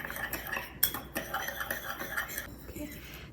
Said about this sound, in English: So first, we're going to mix in our cinnamon and sugar. Just going to mix them together.